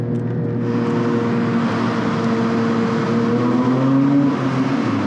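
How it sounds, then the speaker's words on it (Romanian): Loud, sustained engine drone from a Porsche 911 GT3 Touring with rising pitch, echoing and roaring continuously inside a tunnel; no talking. "voiam să vă arăt cum se aude motorul în tunelul ăsta"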